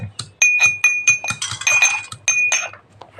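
A knife cuts mango for sweet mango pickle in quick, rhythmic chops, each stroke landing with a bright metallic clink and ring, close and fairly loud, with no talking.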